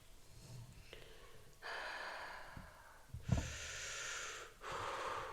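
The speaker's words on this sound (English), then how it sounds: "I know the microphone picks up too much of my breathing." Close-miked breathing from a person, a series of audible inhales and exhales with sniffing, gasp-like intakes and breathy bursts in quiet surroundings, no words spoken.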